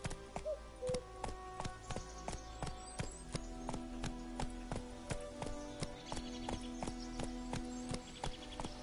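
Rapid rhythmic clip-clop of Roach, a horse galloping in a PS4 video game, steady hoofbeats running throughout with faint game ambience behind.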